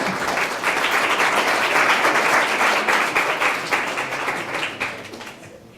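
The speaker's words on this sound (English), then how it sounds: "So please give him a round of applause." Audience applause following the introduction of a speaker at a faith formation gathering: steady, dense clapping from a sizeable crowd, sustained for several seconds at full strength before thinning out and tapering off at the end.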